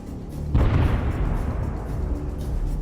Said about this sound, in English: an explosion occurs right next to the wheel